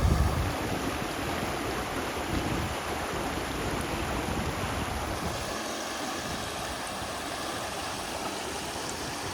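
A small river runs on a hiking trail while hikers cross it on foot. Steady rushing and gurgling water fills the whole stretch, close and continuous, with some wind noise over it and no talking.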